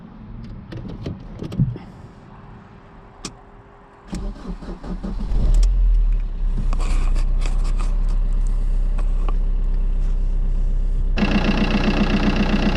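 A Fiat 500 engine starts up after some clicks and rustling following an alternator replacement, then settles into a steady, smooth idle that continues to the end.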